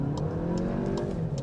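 Cars passing on a freeway in the late afternoon, with a steady, fairly loud engine and tyre drone that rolls on without a break and has no talk over it.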